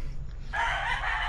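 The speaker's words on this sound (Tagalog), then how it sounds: "Yan akong mga manok diri" A backyard farm rooster lets out a loud, close crow that starts abruptly and holds strongly to the end, over a low background rumble.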